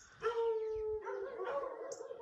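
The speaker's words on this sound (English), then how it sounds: "The dogs have been barking the whole night." Dog in a very small town in Portugal giving a long, wavering howl-like bark followed by shorter yips, moderately near with some background noise.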